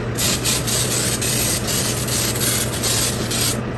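Cooking oil sprayed onto chicken popcorn pieces before air-fryer baking, a continuous close hiss of fine mist with slight pulsing, steady low hum underneath, no voices.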